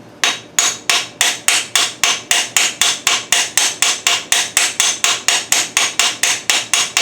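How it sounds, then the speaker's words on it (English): Steady, evenly spaced hammer blows on metal during a 2007 Chevy 5.3 engine rebuild, about three strikes per second, loud and close with sharp ringing impacts and no voices. "A bigger hammer may be helpful"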